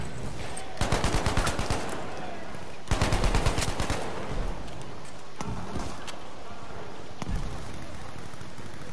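Bursts of gunfire from the Battlefield V video game, two rapid volleys of close, loud shots followed by sparser single cracks over a noisy battlefield background.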